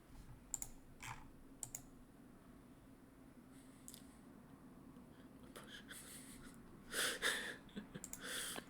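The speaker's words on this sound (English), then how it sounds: "It's typing these out that's going to take a little bit because I'm kind of slowly typing out his rolls" Slow, scattered keystrokes on a computer keyboard, quiet and close, with a denser burst of clicks near the end over a low room hum.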